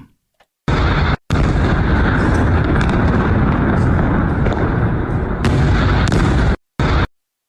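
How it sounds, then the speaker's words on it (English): Loud, sustained rumbling blasts from ballistic missile explosions near the US consulate in Iraq roar almost continuously for several seconds, cutting off abruptly a few times, on distorted audio. "Explosions from ballistic missiles reported near the United States consulate in Iraq."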